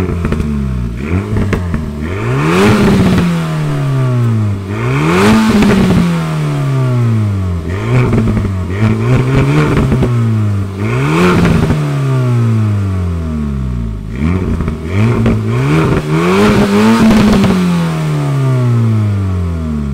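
An Alpine A110S four-cylinder engine revs repeatedly, rising and falling in about seven loud sweeps over twenty seconds, each climb ending in a sharp drop with crackling between blips.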